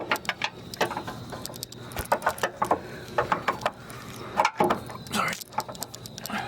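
A ratchet wrench with a 6-point socket works on a Honda Civic axle, giving bursts of quick clicking and metallic tapping up close, with short pauses between strokes and faint background shuffling.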